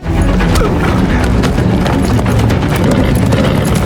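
Horse galloping away amid chaos in a Viking-era drama scene, a loud, continuous, rapid drumming of hooves over a dense, rumbling background with no talk.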